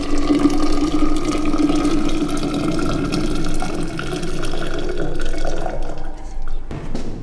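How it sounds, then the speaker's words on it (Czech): Hot water poured into a container, a steady splashing, trickling stream running for several seconds before tapering off near the end. "Horkou vodu nalijeme do nádoby."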